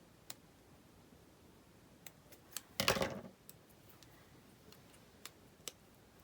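Scissors snip through paper while trimming a handmade pocket gift holder, one brief dense cut near the middle amid faint scattered ticks, quiet and close with no talk.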